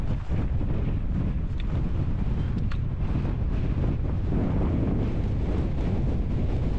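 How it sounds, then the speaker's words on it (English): Strong, steady, cold north wind on a winter mountain summit buffets the microphone with a continuous deep roar and no pauses or voices. "Coming down from the north and very windy and cold."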